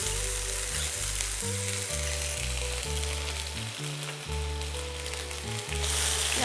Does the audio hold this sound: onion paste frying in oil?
yes